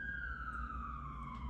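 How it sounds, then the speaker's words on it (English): A fire engine siren from a nearby fire station wails in one long descending tone, faint and distant over a low background rumble, with no talking. "So sorry for the sirens."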